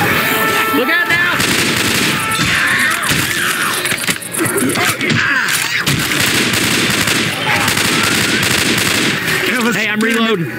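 Dense, continuous automatic gunfire from Left 4 Dead 2 rattles without pause at close range, with scattered shots and impacts layered over it and voices calling out beneath the shooting.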